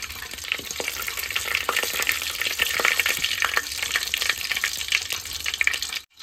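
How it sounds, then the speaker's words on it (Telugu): Spices frying in a pan for chicken curry, a close, even sizzle punctuated by frequent sharp scraping and tapping from stirring. "సో ఇవన్నీ జస్ట్ ఒక 2 మినిట్స్ వేయించుకోవాలన్నమాట."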